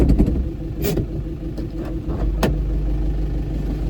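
A Cameo truck's engine idles steadily at close range during log loading, a low continuous rumble with a few brief knocks and clatters over it; no talking.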